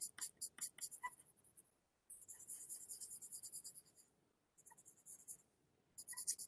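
White charcoal is stroked across paper under pressure, making close, soft scratchy scribbles in rhythmic bursts with a long pause between groups of strokes.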